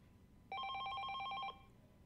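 A telephone rings in the video game 428 Shibuya Crossing: a steady electronic trilling ring lasting about a second, clear and alone against a faint background hum.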